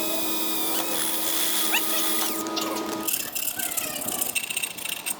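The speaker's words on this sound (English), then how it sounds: "I'm just going to drill a little hole, the hole saw, and clear that out" A power drill with a hole saw whines steadily, then its pitch shifts and the sound turns rougher and more rattly as the cutter bites into material.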